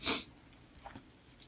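A single sharp human sneeze bursts out loud and close at the start, then fades into soft breathy noise and faint rustling.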